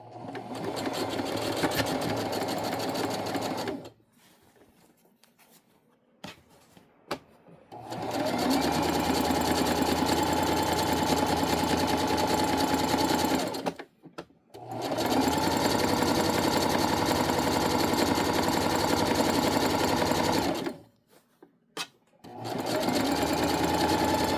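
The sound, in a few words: sewing machine stitching a flat felled seam on a tote bag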